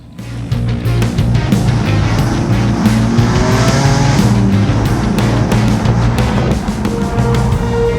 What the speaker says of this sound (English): So here we go on the test drive.